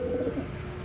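A pigeon from a breeding pair gives a short, soft coo, close by and alone, lasting under a second.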